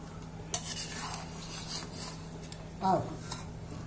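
Cooked mutton biryani is stirred in a pressure cooker, with quiet scraping of a spoon through the rice and a louder scrape near the end over a faint low hum, close and soft.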